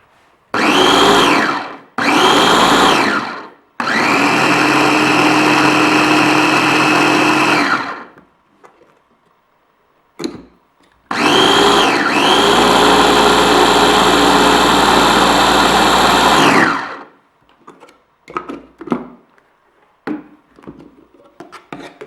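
A Vitek VT 7019 food chopper motor runs at first speed on fruit, loud and close, in three short bursts followed by a longer run, then faint clicks and handling noises.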